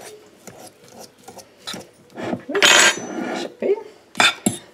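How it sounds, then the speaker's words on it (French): Boiled potatoes being mashed for potato candy, giving repeated rasping, squelching strokes against a bowl in an irregular rhythm, close by and fairly loud in the middle, with no talk. "Vous pouvez bien écraser."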